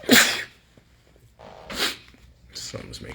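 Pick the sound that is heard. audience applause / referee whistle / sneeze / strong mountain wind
sneeze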